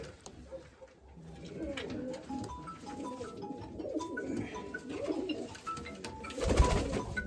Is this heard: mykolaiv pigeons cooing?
yes